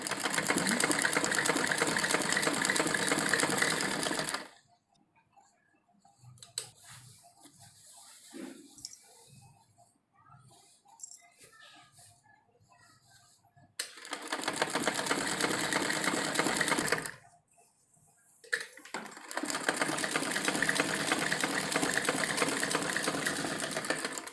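A sewing machine stitches a salwar seam in long steady runs, loud and close, stopping twice for quiet pauses filled with faint handling of the cloth before the whirring motor starts again.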